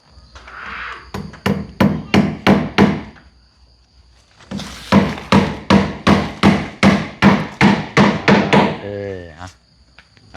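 Something is being driven in with a hammer outdoors during an installation job: two quick runs of sharp, evenly spaced blows, about a dozen each, loud and close. A short pause separates the runs, and a brief creak follows the second.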